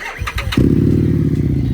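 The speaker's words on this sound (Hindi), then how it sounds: "बाइक स्टार्ट करके जरा दिखाना आवाज़ कैसी है इसकी" A Harley-Davidson Street 750 with an MK Racing custom exhaust cranks briefly, then fires up into a deep, throbbing idle with a bassy, pulsing exhaust note, loud and close.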